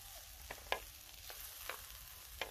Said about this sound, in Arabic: كنقلبو البصلات شويه تنزل